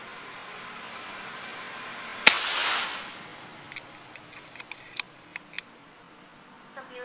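A single sharp air rifle shot fired with a 15 grain pellet, one loud crack followed by a brief decaying burst of noise, then a few faint light ticks and taps in the background.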